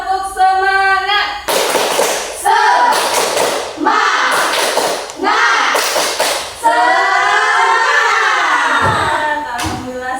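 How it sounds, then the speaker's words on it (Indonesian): Rhythmic group clapping from a classroom doing a cheer-style clap chant, sharp bursts of claps punctuating loud call-and-response speech from teacher and pupils. "Oke, tepuk semangat."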